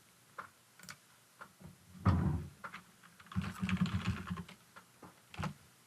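Someone types a password on a computer keyboard, quiet and close: scattered single key taps, then two short bursts of rapid clicking, with no voice.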